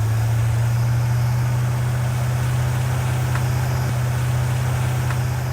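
A car engine fitted with a Holley carburetor runs at a steady, loud, low idle with a constant droning hum and no talking.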